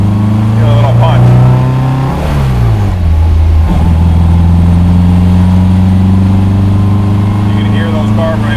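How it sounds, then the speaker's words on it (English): MG MGA 1500 coupe engine revved while the carburetors open up, a loud close drone rising and falling through a couple of blips before settling to a steady idle, with someone talking over it. "You can hear those carburetors opening up."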